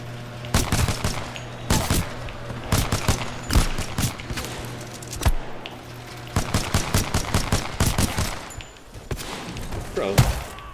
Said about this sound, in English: The pistols are so good in this game